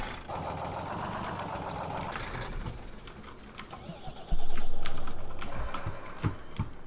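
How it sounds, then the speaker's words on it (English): Mechanical gaming keyboard clicking in rapid, dense keystrokes over steady truck engine drone from a Farming Simulator 2015 game, with a louder engine surge partway through. "sorry about the clicking, but I mean, it's a mechanical gaming keyboard"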